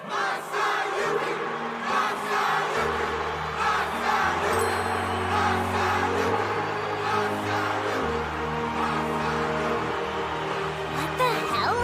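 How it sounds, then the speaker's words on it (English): A large crowd roars and chants continuously for a hero named Masayuki, a dense, loud wall of cheering voices that never lets up, with music underneath. "The crowd's losing their minds over him"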